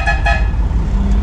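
A loud car horn blares in two quick honks close by at a rodeo, with a low engine rumble underneath.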